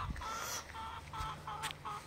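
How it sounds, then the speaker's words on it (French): A hen clucks in a series of short, bright calls spaced across about two seconds, fairly close against a low background hum, with no talking. "Il y a une poule là."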